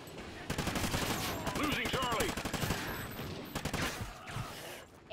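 Rapid shotgun and gunfire blasts from Call of Duty: Ghosts Domination multiplayer on the Strikezone map, loud and dense, with repeated booming shots over a busy battle backdrop and some voice underneath.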